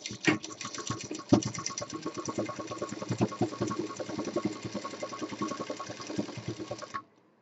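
Sewing machine stitching cushion fabric with lining, a rapid steady mechanical chatter of needle strokes running for about seven seconds before stopping abruptly, close and continuous.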